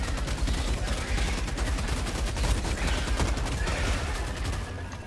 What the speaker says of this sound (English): Now I can get my heavy machine gun.